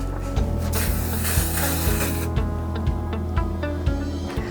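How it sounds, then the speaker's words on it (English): Repositionable adhesive spray hisses onto a sublimation transfer sheet in a loud, steady burst lasting about two seconds, followed by light rubbing and handling sounds. "I'm going to spray it with repositionable spray"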